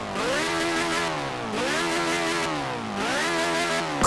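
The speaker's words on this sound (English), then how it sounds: "this is what a motorcycle engine swap sounds like in Forza Horizon 4" A car fitted with a motorcycle engine swap in Forza Horizon 4 screams through three long, loud revving pulls, each climbing steadily in pitch before dropping back sharply.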